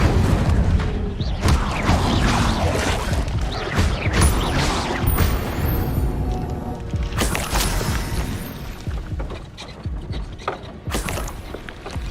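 Fire spell cast in Hogwarts Legacy, a loud whooshing burst amid busy game effects and rumbling booms that run steadily through the scene.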